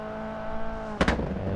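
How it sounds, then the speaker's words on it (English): Abarth 131 rally car engine in the Sebastien Loeb Rally Evo game on the Pikes Peak hairpins: a steady, droning engine note, then a sudden louder burst of revving near the end. "God, just love the sound of that engine"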